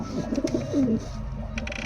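Several male racing pigeons, high-flyer breed, coo in a loft: a few close, throaty rolling coos in quick succession, then fading into a quiet background with light rustling.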